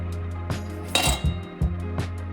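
Camping cooking gear being handled, a pan and metal utensils knocking and clinking together in a few distinct bumps and rattles, close and fairly loud with no talking.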